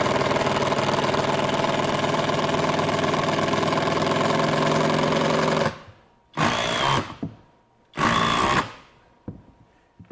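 A FLEX FXM202 24V drill driver in second speed mode whirs loudly and continuously close by, then falls silent and gives two short bursts as screws are driven.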